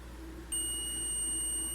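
A digital multimeter's continuity-test beep starts abruptly and holds continuously, high-pitched and clear over a faint background hum.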